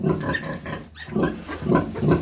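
Pigs grunting loudly and close on a farm in the days after a sow farrowed, a run of repeated guttural grunts and snorts with a brief pause partway through.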